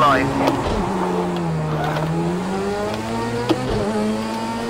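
Rallycross car engine in the Project Cars 2 racing game drops through gears, its tone falling and then climbing again with a few sharp shift blips, while someone talks over it.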